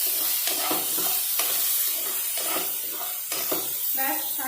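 Vegetables with about two spoons of sugar are stirred in a hot pan, giving a continuous close sizzle and hiss with soft scraping strokes from the stirring.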